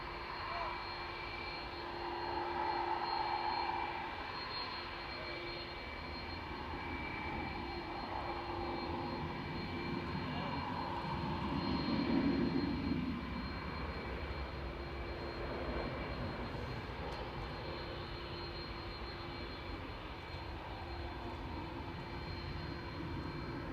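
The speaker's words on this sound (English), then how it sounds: "Touching down, so hopefully this is timed nicely. Coming in from Kuwait City, flight 113 9K APK and A330neo 900." A Kuwait Airways Airbus A330neo jet airliner touches down at Manchester Airport, its engines producing a steady broad roar that swells slightly midway and stays loud throughout, with no talk.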